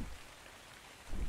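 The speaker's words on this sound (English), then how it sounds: "Or is it just the rain?" Rain falling in the video game ARK Survival Evolved, a steady soft hiss of drops that thickens toward the end, with no talk over it.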